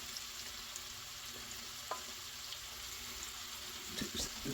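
Heavy whipping cream and butter mixture is stirred into a cast iron pan outdoors. A faint, steady sizzle with soft scraping continues, and a few light clinks come near the end.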